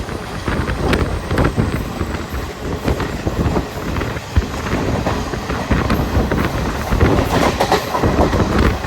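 A passenger train on a Kerala line via Kottayam and Alappuzha runs at full power, heard from inside a coach as a continuous loud rumble with rhythmic rail clatter and wind buffeting.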